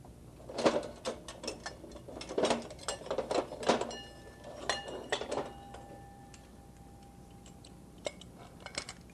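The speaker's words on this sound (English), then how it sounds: "And so this ring lock would fit around it and clamp on." Metal clanks and rattles come up close as a ring lock is fitted and clamped around an irrigation wheel line pipe coupling, with irregular bursts of clatter that thin out toward the end.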